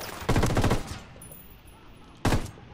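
Enemy automatic gunfire in a Ghost Recon shooter: a close, loud rapid burst of shots lasting about half a second, a quieter stretch, then a second short burst at the end.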